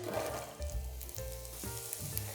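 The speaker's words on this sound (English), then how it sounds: "So this oil should be nice and hot now, and I'm going to add in my onions" Onions hit hot coconut oil and sizzle in a close, steady crackle, with a few soft stirring knocks through it for a couple of seconds and no voices.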